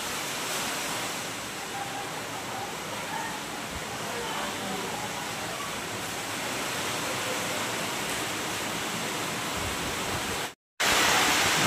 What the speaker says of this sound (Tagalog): Guys, medyo nalakas na po talaga ang hangin dito.